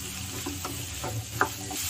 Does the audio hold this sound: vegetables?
yes